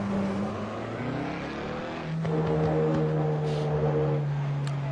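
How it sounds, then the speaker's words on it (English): Race car engines in an online sim racing league game, sustained droning engine tones rising and shifting in pitch as cars run together, steady and moderately loud with no talk. "want to be able to hear those engines properly"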